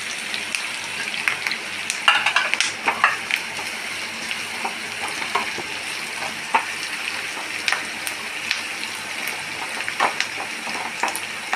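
Onions and vegetables such as eggplant sizzling steadily in a pan with spices, a continuous close crackle and hiss with occasional sharper pops and stirring scrapes throughout.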